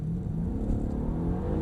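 A Mercedes-Benz E63 AMG accelerating on a driving circuit at Mercedes-Benz World, Brooklands, its engine a steady, loud low rumble building power throughout, heard from inside the car with no talk.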